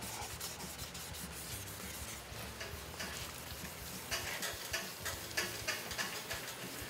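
Wet sandpaper rubbing across a car's painted surface during color sanding, a steady faint scratchy hiss with rhythmic strokes that grow louder and more distinct in the last few seconds.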